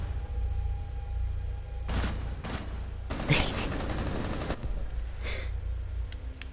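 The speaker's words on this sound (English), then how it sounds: "I literally fire all around him thinking it's a dead body." Gunfire in the tactical shooter Rainbow Six Siege: a couple of single shots, then a dense burst of rapid fire and a few later shots over constant game background noise, with players talking.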